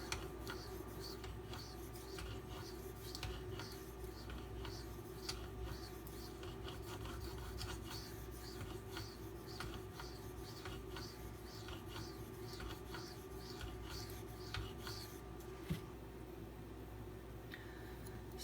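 A Spyderco Para 3 knife blade drawn across a 7.5 micron sharpening stone makes quiet, rhythmic rasping strokes in a steady back-and-forth pattern, close up and without talk.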